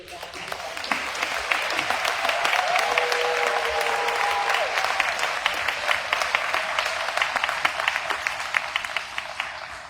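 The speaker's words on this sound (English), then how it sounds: "If you would please give an applause to Diane." Audience applause at an organization's 93rd annual meeting, a broad steady round of clapping from a seated crowd that swells slightly and continues for the whole stretch, fairly close and moderately loud, with no speech over it.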